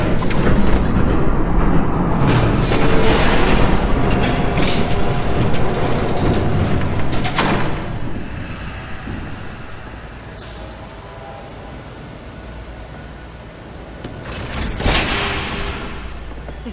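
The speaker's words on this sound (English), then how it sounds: "There's a train coming." A train thunders past in the Batman Telltale Series game with a loud rumble and clatter. It fades after several seconds, and a fresh burst of noise comes near the end.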